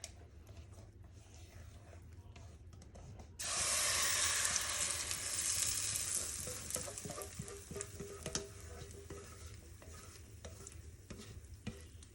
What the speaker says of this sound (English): I am just going to pour my cornbread batter into this pan.